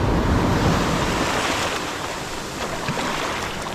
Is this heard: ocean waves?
yes